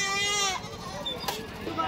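Goats bleat at the Dhule goat market, a wavering nasal cry near the start followed by fainter bleats amid a busy crowd, with people talking throughout.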